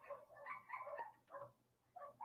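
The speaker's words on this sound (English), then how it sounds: "Hope you lot can't hear the dogs barking outside as well." Dogs barking outside, heard faintly at a distance in short irregular bursts of yaps and barks.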